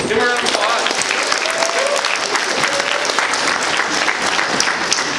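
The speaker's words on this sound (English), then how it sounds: "Give them a round of applause" An audience at a live Catholic show bursts into loud, dense applause for a team being brought back on stage, the clapping steady and close throughout.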